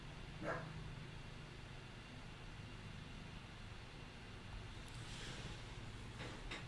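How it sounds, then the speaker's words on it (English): A dog barks somewhere outside, faint and distant, with a few scattered barks over a steady hiss of background noise and passing traffic. "Dog is gonna keep on barking."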